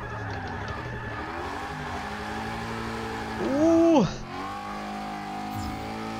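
A drift car in Forza Motorsport 6 on the Nürburgring holds a steady engine drone, then revs up sharply for a brief rising-and-falling burst before settling back, with a short exclamation from a voice over the top.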